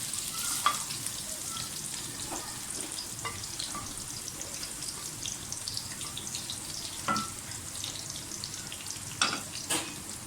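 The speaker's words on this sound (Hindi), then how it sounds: "प्याज हमारा फ्राई हो गया।" Cumin seeds and onions fry in a pan for a minced-meat dish, a quiet continuous hiss dotted with scattered crackles and occasional stirring clicks, heard close with no talking.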